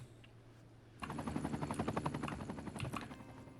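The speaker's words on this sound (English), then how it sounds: "There's the police helicopter" A police helicopter flies overhead in the city-building game Cities: Skylines II, its rotor chopping in a fast, loud pulsing rhythm that starts abruptly and holds steady, alone without speech.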